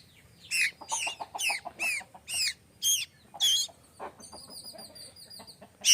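A sparrow chick that fell from a flowering plant calls in a run of about seven shrill, rising chirps at a steady pace, then gives thinner, sustained whistling peeps, close and clear.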